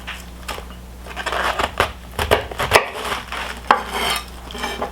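Knife chopping cabbage into bite-size pieces on a board, irregular crisp cuts and thuds, close and moderately loud, with a faint background hum.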